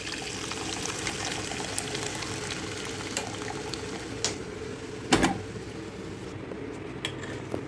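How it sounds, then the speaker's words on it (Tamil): Horse gram cooking water pours into a pot of sprouted horse gram curry in a home kitchen, a low steady splash and bubbling with occasional clinks of a utensil against the pot. "இப்போ நம்ம இந்த கொல்லி தண்ணி அதுக்குள்ளே சேர்த்துருவோம்"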